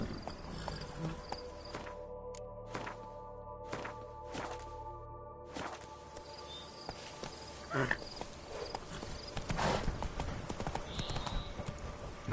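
Horse hooves clip-clop steadily at a walking pace in The Witcher 3, a regular near rhythm over a faint ambient bed of insects and crickets, with a brief whinny-like sound later.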